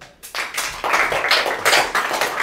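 Fifth-grade students in a classroom clap their hands together in a short, close burst of overlapping claps lasting a couple of seconds.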